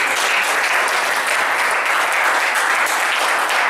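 A church congregation applauds in acclamation during a prayer seminar, a dense, steady roar of clapping from many hands that stays loud and unbroken throughout.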